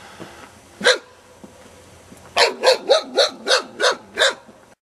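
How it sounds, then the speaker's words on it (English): A feral dog barks in the woods: one sharp bark, a short pause, then a quick run of about seven loud rhythmic barks close by. "Feral dog's name Georgia"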